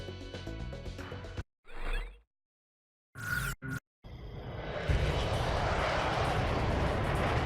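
A fighter jet takes off at night in the video game Ace Combat 6: Fires of Liberation: brief game effects first, then a loud, steady, broadband engine roar that swells and holds to the end.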